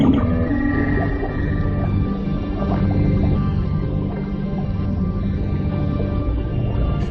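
Dwarf minke whales call underwater on the Great Barrier Reef, a loud, continuous mix of low moans and tonal grunts with a higher whine early on, heard without any talk.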